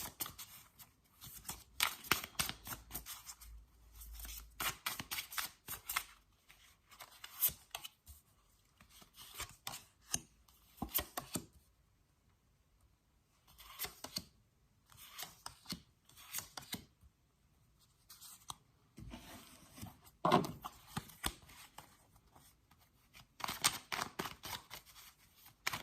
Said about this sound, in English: let's lay out some cards and see what pops up for you